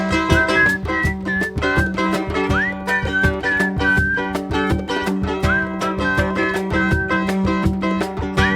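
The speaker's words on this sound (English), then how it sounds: "But let me hear your whistle." Whistled melody carried over a full band playing steadily underneath, the whistle's tune rising and gliding between notes throughout.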